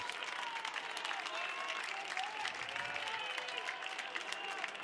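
Crowd inside the Carrier Dome at a Syracuse versus Albany lacrosse game applauds and cheers steadily throughout, a dense wash of clapping with an announcer's voice faintly under it.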